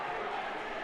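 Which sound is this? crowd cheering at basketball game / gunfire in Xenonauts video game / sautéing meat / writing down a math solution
crowd cheering at basketball game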